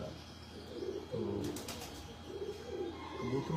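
Pigeons coo in soft, repeated low bursts from a rooftop in Lahore, with a steady murmur of background noise around them and a brief flutter partway through.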